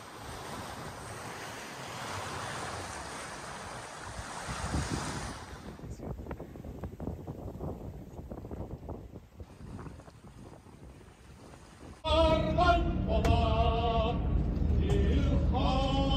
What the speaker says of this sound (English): You can see we're just cruising through the water pretty fast.